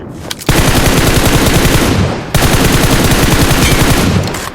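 Sustained automatic gunfire in the mobile battle royale game PUBG Mobile, two long loud unbroken bursts of rapid shots separated by a brief pause, close and dominant.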